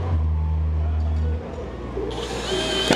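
A Bosch power drill driving a screw whirs steadily for a moment, then stops; quieter handling noise and a brief higher mechanical whine follow, all fairly close.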